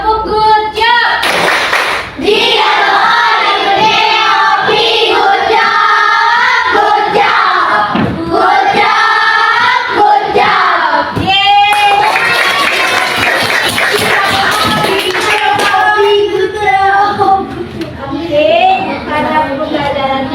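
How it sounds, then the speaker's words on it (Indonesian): A primary school class claps in a quick, patterned good-job rhythm, with voices chanting and talking along, loud and close throughout. "Tepuk good job."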